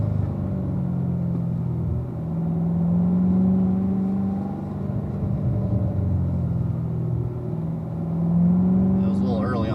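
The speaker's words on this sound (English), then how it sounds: "Gradually accelerating up to the point where you need to start braking for the corner" A race car on an oval track holds a loud, steady engine drone close by, with rising and falling pitch as it accelerates, while a voice talks over it near the end.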